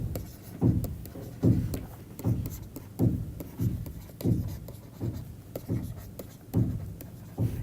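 Chalk or marker strokes on a board during a linear algebra lecture, a run of rhythmic scratchy writing bursts about every half second, close and moderately loud with no talking.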